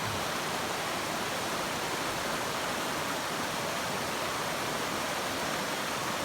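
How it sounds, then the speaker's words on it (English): Noland Creek, a mountain creek, rushes in a steady, dense wash of flowing water that stays loud and unbroken throughout, with no voices. "it's such a beautiful creek"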